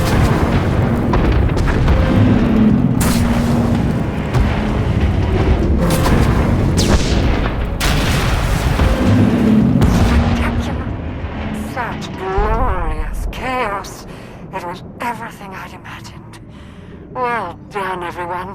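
Weapon fire and heavy explosions from the video game SWTOR, a Bounty Hunter assault on docks, booming loud and continuous with rumbling blasts, then giving way to sharper bursts and energy-weapon zaps; voices talk over parts of it.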